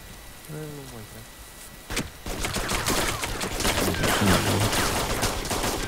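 Rapid bursts of gunfire in the Czech game Heroes Pants On crackle through a noisy, dense mix, with a brief voice-like sound early on and sharp shots after the second mark.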